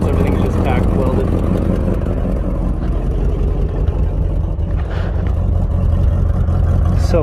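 Engine idles with a rough, throbbing rumble through a tack-welded exhaust leaking at unsealed joints, loud and close, while someone talks over it.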